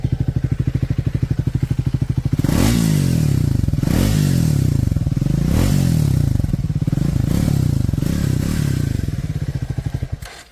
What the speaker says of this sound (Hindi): मैं आपको एक बार इसका एग्जॉस्ट नोट सुनाता हूँ, एक बार इधर से सुनो आप